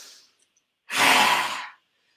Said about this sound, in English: This rasping sound. You want to try and find in the throat.